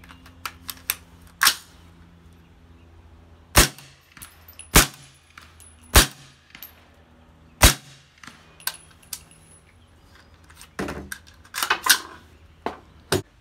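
A suppressed 300 AAC Blackout rifle fires subsonic rounds at an outdoor 100-yard range, a string of sharp, fairly quiet cracks spaced a second or two apart, then a quicker cluster near the end.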